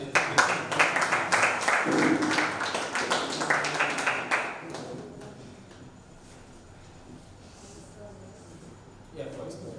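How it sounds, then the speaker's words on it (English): An audience at a creative writers and readers bootcamp clapping: a burst of brisk, close applause that lasts a few seconds, then fades into a quiet room. "please clap for us"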